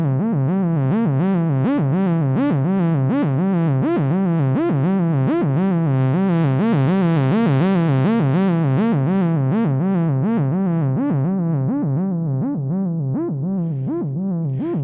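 A Vermona Perfourmer Mk2 analog synthesizer holds one continuous note at steady loudness for about fifteen seconds, with a fast regular wobble all the way through, pitch gliding and the tone brightening midway, alone with no talking.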